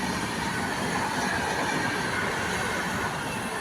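The Kamrup Express from Dibrugarh to Howrah runs through Bijni railway station without stopping, its wagons rumbling steadily with faint wheel clatter and squeal throughout.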